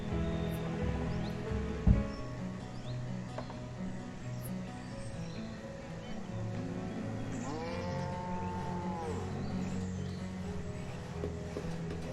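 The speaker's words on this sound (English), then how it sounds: "We hear you, cows. We hear you mooing." Several cows moo in the video game Banished, long, low, drawn-out calls over a steady, busy background, with one sliding moo rising and falling near the middle.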